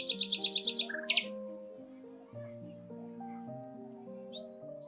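A common nightingale sings: a quick burst of rapid repeated high notes and chirps at the start, then sparse faint calls over a sustained bed of soft music.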